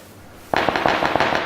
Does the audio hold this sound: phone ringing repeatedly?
no